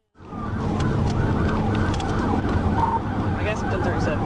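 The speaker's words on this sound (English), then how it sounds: "Trooper activated emergency lights and siren" A police car's emergency siren rises in after a brief silence and then wails steadily and loudly, with road and engine noise underneath during a high-speed chase.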